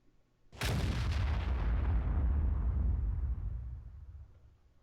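A Soviet SU-152 tank destroyer's heavy gun fires a single deep, booming shot in World of Tanks, with a long rumbling tail that slowly fades over several seconds.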